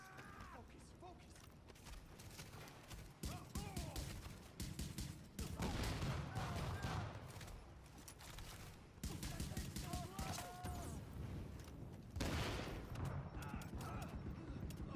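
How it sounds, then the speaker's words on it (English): Bursts of heavy gunfire from a rooftop gunner in The Division, sharp repeated volleys in clusters amid mechanical clatter, with voices heard in places. "The escort party's taking heavy fire from the roof"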